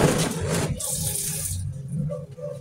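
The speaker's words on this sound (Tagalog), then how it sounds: "Ayan, nilagyan na natin ng tubig." Water splashing and pouring into a new condiment bottle from a tap, a short gushing burst followed by quieter trickling and dribbles, close and moderately loud.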